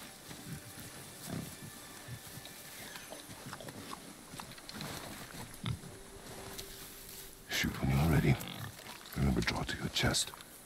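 A boar in the God of War game grunts amid game ambience, building to loud, heavy bursts of grunting and thrashing near the end.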